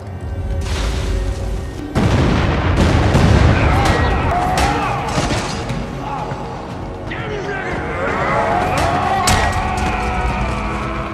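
Heavy explosion booms and crashing blasts outside a camp roll through a loud, chaotic film scene, with a sharp impact near the start and debris-like clatter after.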